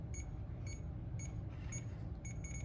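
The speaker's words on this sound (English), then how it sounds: "The beeping is not terribly loud, which might be a problem in a noisy environment" An Aneng AN101 multimeter's voltage detector gives several short, high-pitched electronic beeps in a steady rhythm, fairly quiet over a constant low hum of background noise.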